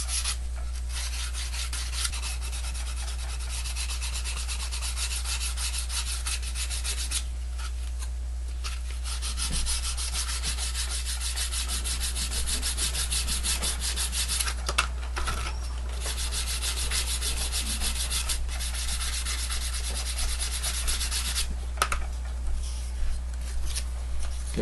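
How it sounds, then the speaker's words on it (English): Sandpaper rubs the edge of a model rocket fin to round it over. The rasping strokes are steady and close, run continuously for about 25 seconds with brief pauses, and no one speaks. "Okay, so I've sanded those so they're rounded over."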